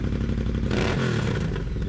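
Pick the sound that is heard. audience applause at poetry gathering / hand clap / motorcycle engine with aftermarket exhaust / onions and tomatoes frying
motorcycle engine with aftermarket exhaust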